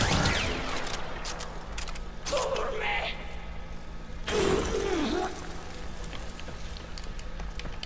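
Tiberon Prime rifle in Warframe firing on full auto against level 100 enemies, a dense mechanical rattle of rapid shots running the whole clip, with short bursts of swelling tonal game effects in between and a voice faintly under it.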